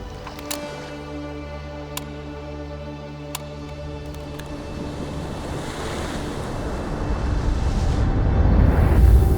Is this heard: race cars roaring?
no